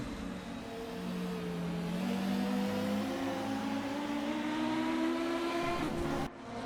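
Race car engines drone and rise in pitch at a distance at the Nogaro circuit, a continuous exhaust roar that slowly builds before cutting off near the end.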